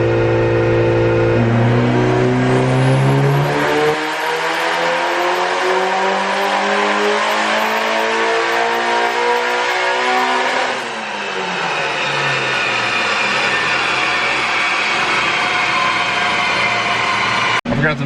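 A Mitsubishi Evo 9 tuned for E85 makes a full-throttle pull, its engine note climbing loud and close through the gears, with a brief dip at a shift before revving up again and cutting off abruptly.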